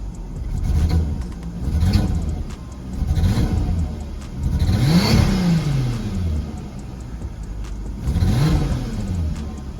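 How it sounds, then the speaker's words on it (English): A turbocharged Golf R32 engine revs repeatedly in slow swells, roughly five rises and falls, with an uneven, sputtering rumble suggesting a misfire, loud and close with no talking. "when I'm sort of revving, you can hear it's like a splutter"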